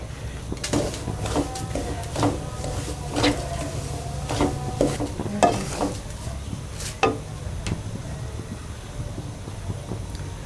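Roasted gram powder going into aloe vera halwa cooking in a pan, with scattered scraping and stirring clicks over a low continuous sizzle, close and moderately loud, no voices.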